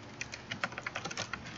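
Keys on a computer keyboard clatter as a folder name is typed in AutoCAD Civil 3D, a quick, uneven run of close, light clicks with no voices.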